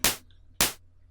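Two separate synthesized clap hits made in Serum with no high-pass filter, each a sharp broadband burst with a full low-end body, spaced about half a second apart and left dry with nothing else playing.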